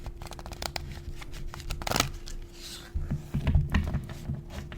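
A deck of tarot cards is shuffled by hand, giving a close, soft riffling and rubbing with a louder flurry near the middle and some tapping toward the end, with no talking.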